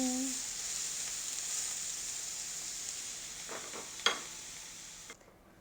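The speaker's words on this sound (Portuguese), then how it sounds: "E vamos colocar também a cebola que nós acabamos de picar. E vamos misturar até ela ficar douradinha." Chopped onion sizzles in olive oil in a pan, a soft even hiss with a few stirring scrapes and one sharp knock near the end before it cuts off, quiet and close.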